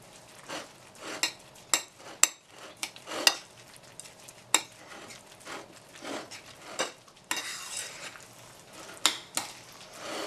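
Spaghetti squash with salt and grated grana padano is stirred in a pan, giving a series of close, irregular scraping and clinking utensil strokes against the pan; no talking.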